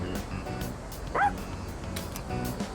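An angry dog in the video game Persona 3 Reload gives a short yipping bark over steady game music, loud against the background.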